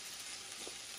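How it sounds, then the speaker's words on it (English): Chopped onions, garlic and ginger sautéing in a pan for a vegetable Mughlai paratha filling, a steady soft sizzle throughout with no voices. "We're gonna let this saute and cook down."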